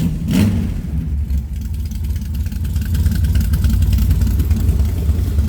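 A 1967 Chevrolet Camaro engine idles steadily and close, with a low rumbling tone that stays even throughout and has no talking over it.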